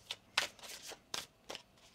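Tarot cards are shuffled in a series of quick riffling bursts, close and crisp, with short pauses between them and no talking.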